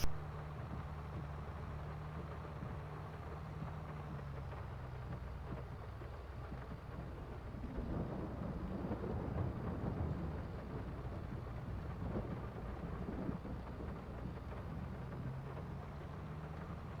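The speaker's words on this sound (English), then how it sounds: "I think it's finally going to stop raining." Rain falls steadily in the video game Farming Simulator 22 under low, rolling thunder, a dense, even wash of noise with deeper rumbles swelling through the middle.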